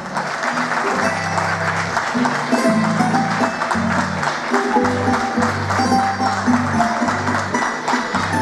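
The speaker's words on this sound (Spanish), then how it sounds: "Fuerte el aplauso" Loud, sustained applause from an audience at a CD launch concert, steady clapping that fills the whole stretch, with music or voices faintly underneath.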